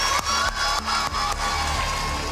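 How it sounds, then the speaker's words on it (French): A village crowd cheering and applauding loudly for a family left homeless by a house fire, with whoops and shouting blended into a continuous roar that is close and sustained. "J'aimerais que vous applaudissiez très très fort."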